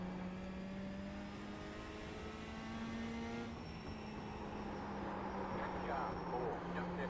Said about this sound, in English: Man, the ARCA cars are so loud.